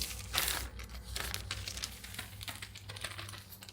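A small plastic bag holding seeds wrapped in kitchen towel is folded up, giving close, dry crinkling and rustling in irregular bursts throughout, fairly quiet with no talk.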